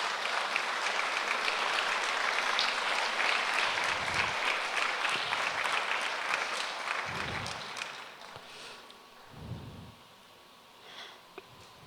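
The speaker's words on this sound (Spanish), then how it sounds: "Dale un aplauso al Señor con todo" Church congregation applauding during a sermon, a steady dense clapping that swells, then tapers off and dies away after about eight seconds, leaving sparse low sounds.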